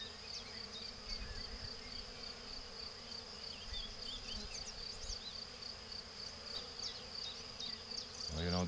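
A honeybee swarm buzzes near a hive while bees are being moved into a frameless divisible Layens hive. The buzzing is loud, dense and continuous, with a brief rising rustle at the end.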